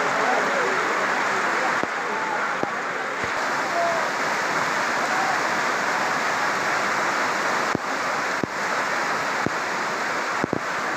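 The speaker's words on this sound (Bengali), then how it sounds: "এবছরের জন্য আজকেই সর্বশ্রেষ্ঠ এবং অনেক প্রচণ্ড বৃষ্টি হয়েছিল" Heavy downpour over a remote village, a loud, unbroken roar of rain with a few brief clicks and knocks scattered through it.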